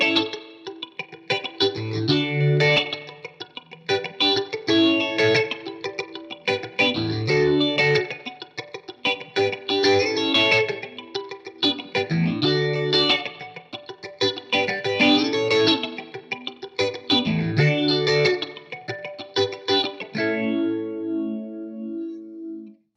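An electric guitar run through effects, with distortion and chorus, plays a chord progression high up the neck. The rhythmic strummed chords sound full and shimmering, and the last chord rings out to the end.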